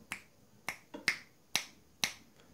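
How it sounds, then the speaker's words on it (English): Six crisp finger snaps come close by in an irregular rhythm, each one sharp and dry, with near silence between them. "if you snap your fingers over here, you can see the backs are going"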